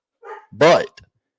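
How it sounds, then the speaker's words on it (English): Dogs barking indoors in a couple of sharp, close bursts with a brief trailing yip, loud and overlapping nearby speech. "My dogs are going crazy, y'all."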